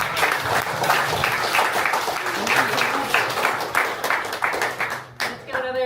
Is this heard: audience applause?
yes